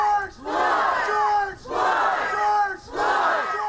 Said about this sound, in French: Acclamé, soutenu par la foule, le frère éploré reprend sa marche vers l'endroit où George Floyd a poussé son dernier souffle